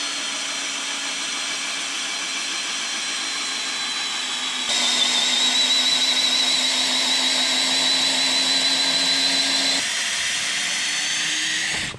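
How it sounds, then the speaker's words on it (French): A drill bores a 12 mm pilot hole for a lag screw through very hard oak at a timber-frame roof cleat. Its steady, close whine runs unbroken, rising in pitch partway through and settling again near the end, with no talking. "Je vais prépercer à 12, donc diamètre, de mon tire-fond sur la partie échantignol"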